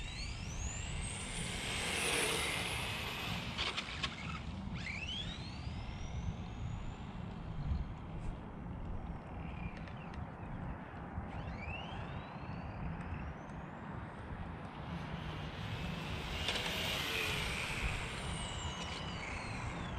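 An ARRMA Talion 6s RC car drives across a construction site under throttle, its electric motor whining up and down in repeated rising and falling sweeps over constant gravelly tire noise, with no talking.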